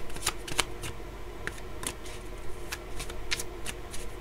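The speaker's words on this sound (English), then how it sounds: "let me pull some more cards" Tarot cards are shuffled and pulled from a deck, giving sharp riffling snaps and soft slides at irregular intervals, close and clear over a quiet room.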